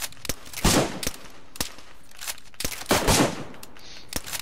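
Gunfire in the DayZ video game: sharp rifle shots crack out irregularly, some single and some in quick pairs, loud and close, with a few heavier bursts and no talk over them.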